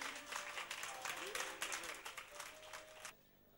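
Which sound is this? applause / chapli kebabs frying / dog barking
applause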